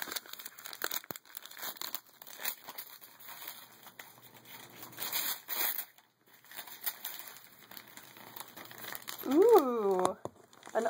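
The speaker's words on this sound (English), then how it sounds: "Some other awesome paper with the Grinch on it." Grinch wrapping paper crinkles and crumples as a package is unwrapped, with bursts of rustling and tearing at close range. A person talks over parts of it.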